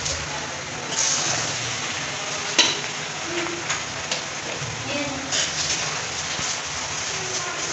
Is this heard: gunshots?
no